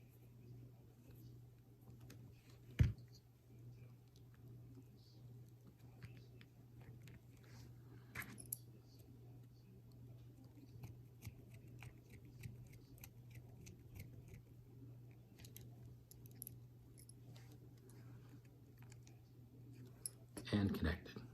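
Insulated wire being snipped and stripped for a microcontroller build, a few small close clicks and cuts, including a sharp snip early and a crunch of stripping near the end, under a steady low hum and quiet talk.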